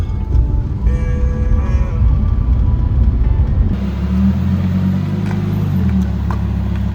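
A Lamborghini driving, heard as a loud, steady engine rumble from inside, shifting partway through to a deeper droning tone with rising and falling pitch.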